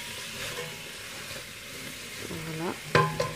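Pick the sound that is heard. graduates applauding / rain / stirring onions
stirring onions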